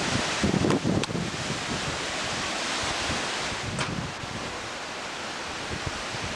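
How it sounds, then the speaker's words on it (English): Powerful wind from the March 1993 storm buffets the microphone in a continuous loud roar outdoors, with brief harder gusts near the start and a steady rushing wash throughout. "It's been blowing like this."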